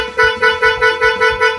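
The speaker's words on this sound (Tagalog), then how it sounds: "On natin yung G-Star horn." A G-Star horn fitted to a Husqvarna Svartpilen 401 motorcycle sounds loud and close, with a steady harmonic tone pulsing in about seven rapid, even bursts.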